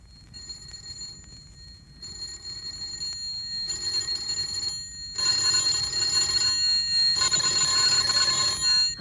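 Electric doorbells ring in a radio drama, a shrill metallic jangle that stops and starts in several long bursts and grows louder and fuller toward the end, with no one speaking.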